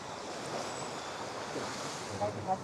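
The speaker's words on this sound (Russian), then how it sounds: "Сейчас большой прилив, очень мало места осталось. Вот здесь на песочек заходит вода все ближе и ближе." Sea waves wash onto a sandy beach at high tide on White Beach, Boracay, as a soft, continuous, faint surf hiss with a little wind, and no voices.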